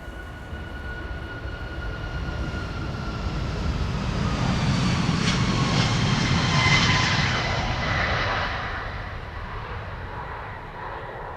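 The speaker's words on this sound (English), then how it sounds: "A340-600 operated by USC on its way" A 21-year-old Airbus A340-600 jet taking off from Schiphol's Polderbaan runway in rain showers, a distant engine roar swelling to a broad peak with a faint high whine, then fading.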